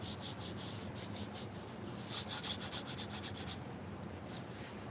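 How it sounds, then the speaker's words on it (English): A damp green scrub pad rubs across bisque-fired, wheel-thrown pottery in quick back-and-forth strokes, a soft close scratchy hiss in regular bursts. "This little green scrubby thing just does the trick."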